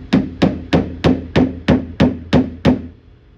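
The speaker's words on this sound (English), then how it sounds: "I'm gonna take my hammer with the back side of it, which is like almost like a pick" Eight light, evenly spaced taps of a hammer's pick-like back side on a 2011 Chevy Malibu's body metal, each with a brief ringing decay, close by.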